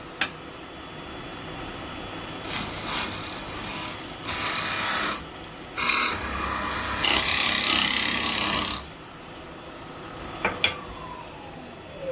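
A woodturning scraper cuts into a spinning wooden workpiece on a lathe, throwing shavings in several raspy bursts of a few seconds each, the longest near the middle, separated by quieter pauses.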